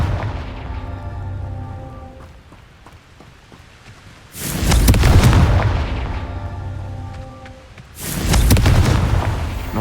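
Two heavy booming blasts of the Confringo fire spell in the video game Hogwarts Legacy, each a loud wide burst that rumbles and fades over a few seconds, the second arriving about four seconds after the first.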